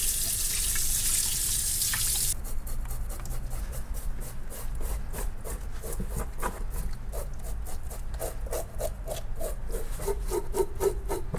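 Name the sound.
washing a steelhead trout under running water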